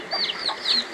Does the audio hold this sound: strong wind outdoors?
no